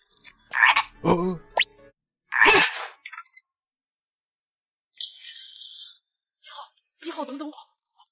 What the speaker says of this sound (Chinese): 我在后面听到两次特别奇怪的声音， 像青蛙叫一样